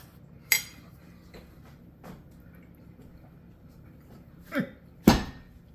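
Bread pieces broken up and stirred into a pot of Tuscan ribollita vegetable soup: a handful of sharp spoon clinks against the pot, close and spaced apart, with quiet wet stirring between them.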